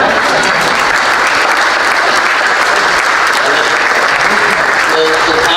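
A crowd at a chamber of commerce annual meeting applauds in a loud, dense, unbroken roar of clapping that holds steady throughout.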